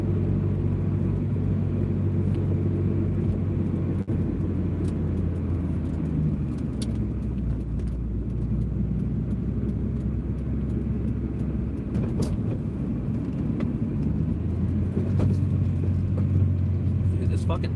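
An engine with an erratic throttle rumbles and surges unevenly. The low, continuous drone rises and falls in uneven revs, close by, while someone talks over it.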